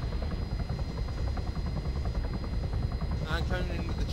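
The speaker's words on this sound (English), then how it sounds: "I'm coming in with the Chinook if you got the red eye." Chinook helicopter in the ArmA 3 game, a steady rapid rotor thump close and loud throughout, with radio chatter over it.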